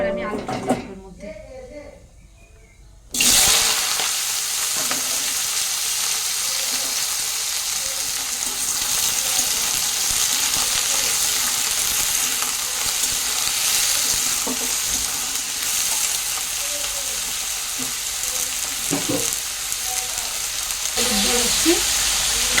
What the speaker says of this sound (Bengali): ভাজা ভাজা হয়ে গেছে, এবার আমি আলুটা দেবো এর মধ্যে।